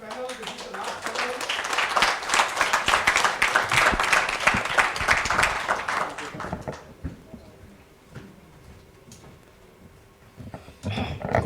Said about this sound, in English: can I request all of you to give a big applause to this panel?